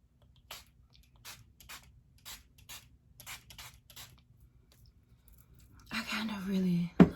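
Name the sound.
makeup spray being sprayed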